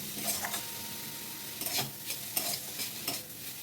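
A spatula stirs leafy greens together with fried brinjal in a pan over low flame, producing repeated scraping strokes over a quiet sizzle at close range, with no talking.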